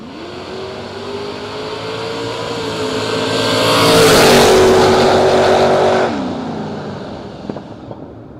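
Drag racing launch at a footbrake bracket event: an Oldsmobile-powered Buick Skylark and a 1973 Chevrolet Nova roar off the line together, engines climbing in pitch to a loud near peak, then the sound fades as the cars pull away down the strip.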